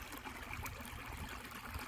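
Creek water running steadily and fairly close in woodland, a soft continuous trickle and gurgle with low rumble, no voices.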